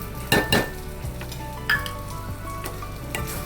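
Milk boils in a pot for makhana kheer as sugar goes in, a soft bubbling hiss punctuated by a few bright spoon clinks against the metal, close with no voices.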